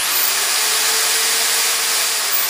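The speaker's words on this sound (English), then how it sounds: "You can also use a variety of power tools, such as this power drill." A power drill running from a 2000 watt power inverter gives a loud, steady, high-pitched motor whine, close and constant throughout with no talking.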